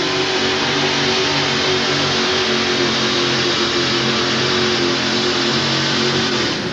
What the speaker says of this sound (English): It's a Dodge truck, Dodge body, and it has a supercharged wedge head Dodge engine.